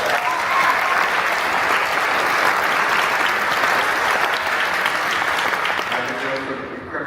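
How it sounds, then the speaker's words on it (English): A seated audience at a talk claps in sustained, even applause for about seven seconds, fairly loud throughout and tapering slightly at the close. "If we can give them a round of applause."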